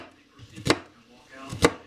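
Two sharp knife chops on a board, about a second apart, as peeled food is cut by hand for an Instant Pot chili, heard close and fairly soft with a faint voice in the background.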